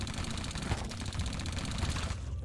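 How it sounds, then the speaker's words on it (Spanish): A machine gun tower in Iron Marines fires a dense, continuous burst of rapid rattling shots, loud and unbroken, with no talk over it. "Dispara una tormenta de balas de alto calibre capaces de mantener a raya legiones de enemigos."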